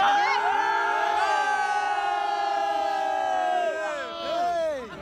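A crowd of people, many of them Afghan, shout and whoop together in England before New Year, loud overlapping wavering cries rising and falling continuously.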